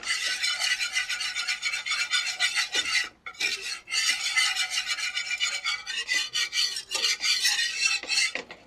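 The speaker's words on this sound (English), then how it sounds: "And you're going to constantly whisk. You don't want to stop stirring because, again, you don't want it to burn." A whisk scrapes steadily and rapidly against a pan as a flour and fat mixture cooks, a loud, continuous rasping with only a brief pause partway through and no talking.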